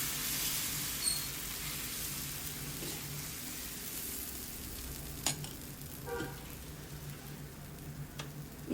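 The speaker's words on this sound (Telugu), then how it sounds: "పెనం వేడెక్కిన తర్వాత ఈ పెసరట్టు పిండిని ఇలా వేసుకుని మీడియం ఫ్లేమ్లో పెట్టి ఇలా స్ప్రెడ్ చేసుకోవాలి" Pesarattu batter of green gram is spread across a hot pan over a medium flame, giving a soft, steady sizzle with faint scraping and occasional light clicks, all fairly quiet.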